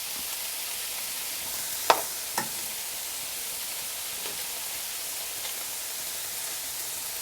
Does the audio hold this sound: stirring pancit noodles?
yes